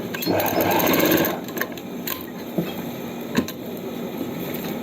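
A sewing machine stitches elastic into the waistband of palazzo pants, its motor giving a steady, close mechanical whir with a louder burst near the start and a few faint clicks.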